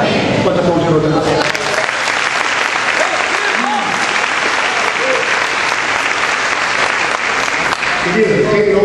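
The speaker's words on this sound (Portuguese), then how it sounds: "Pode aplaudir o Deus." A church congregation applauds during a sermon, sustained dense clapping that fills the whole stretch at a loud, steady level, with some voices calling out over it.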